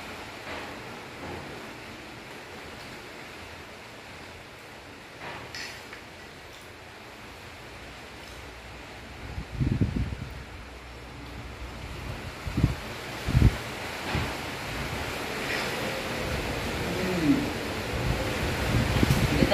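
Wind blows steadily outdoors near a new house, a faint broadband rush with a few low thumps and gusts toward the end.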